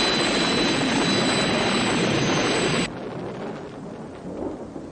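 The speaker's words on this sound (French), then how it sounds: "On dirait que l'orage redouble de violence." A violent thunderstorm roars as a loud, dense rumble, then drops abruptly to a softer rushing wash of rain and distant rumbling, with no voices.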